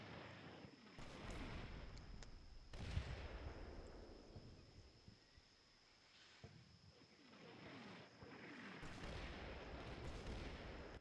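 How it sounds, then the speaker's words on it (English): Artillery fire in the wargame Combat Mission Red Thunder, set in a Berlin-like city: heavy booming blasts and rumbling explosions recurring over several seconds, loud and dense, with no talk. "I just love just seeing the ferocity of the artillery"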